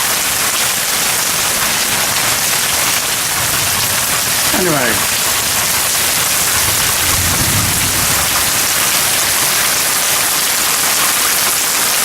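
Heavy rain hisses steadily throughout a Florida rainstorm outside a house, with a low rumble of thunder rolling in partway through. A voice speaks briefly over the downpour.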